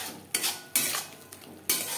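Salt, turmeric and spices being mixed for a tilapia fish curry, with several distinct scraping stirs of a utensil against a pot or bowl, close and fairly loud, separated by brief pauses.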